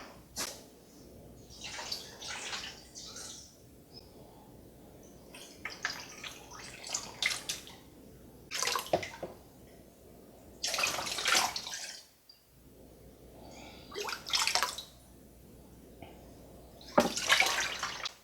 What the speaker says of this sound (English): Fill it up the rest of the way with some cold water.